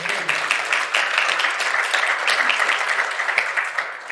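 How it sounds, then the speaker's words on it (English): Steady audience applause at a Republican National Convention women's event, a continuous wash of many hands clapping at even loudness throughout. "If we can give her a round of applause."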